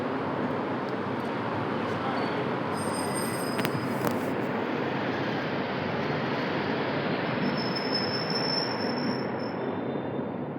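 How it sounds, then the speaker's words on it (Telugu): A Hyderabad metro train pulls into a station with loud, continuous wheel squeal and rumbling rail noise throughout, sharp high whines rising and fading over the steady roar. "మన రైల్వే స్టేషన్ వచ్చింది, అంటే మెట్రో స్టేషన్ వచ్చింది."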